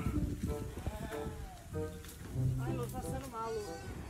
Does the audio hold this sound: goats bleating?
yes